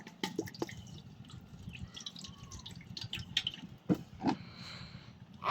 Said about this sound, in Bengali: দাঁড়ান, তেলটা দিয়ে নেই।